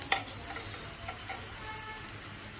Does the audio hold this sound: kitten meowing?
no